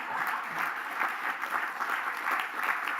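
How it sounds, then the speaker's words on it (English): Audience at a hospital annual general meeting clapping in unison to vote in favour of adjourning, a steady wash of applause from many hands, moderately distant and even throughout. "All those in favor, clap your hands"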